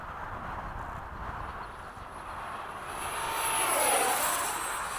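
A 70mm FMS F/A-18 RC electric ducted-fan jet makes a fast pass in fog, its whooshing fan roar swelling as it approaches and sweeping past before fading slightly, with steady background noise outdoors.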